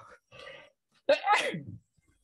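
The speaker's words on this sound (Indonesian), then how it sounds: "Aduh, bersin." A single sharp sneeze bursts out close by after a short stretch of quiet talk, loud and abrupt, trailing off within about half a second.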